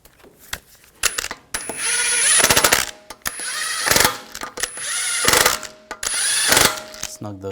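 Metal lug bolts are spun and ratcheted snug onto a car wheel hub during an AC condenser replacement on a 2004-2009 Audi A4, giving bursts of close ratcheting clicks and metallic rattles separated by short pauses.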